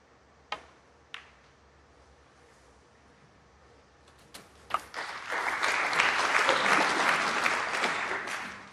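A few isolated claps or clicks break the quiet, then a snooker crowd at the 2023 British Open swells into warm, sustained applause that holds and slowly eases near the end.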